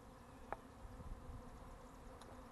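A swarm of honey bees buzzes outdoors near pine trees and a hive box, a faint, steady hum that holds through the clip with a couple of brief sharper passes.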